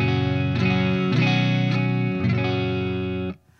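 Electric guitar on its neck pickup, with a 500T pickup lowered slightly, played through a Hughes & Kettner ACCESS tube preamp: sustained, distorted chords change in a steady rhythm, loud and alone, then cut off abruptly near the end.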